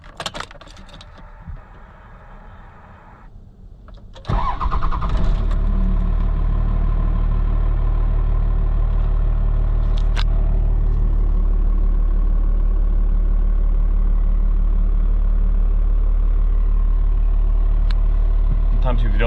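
A 1995 Dodge Ram 2500 4x4 diesel truck cranks on a cold start and then settles into a loud, steady, deep idle rumble that continues without a break, with a few quiet clicks before it fires.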